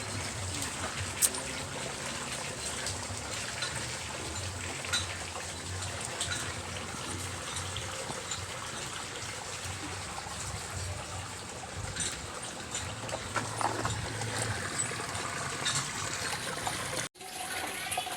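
Water runs and trickles steadily while a fish pond is drained and refilled for a full water change, a continuous soft outdoor flow that holds at the same level throughout with no talk over it.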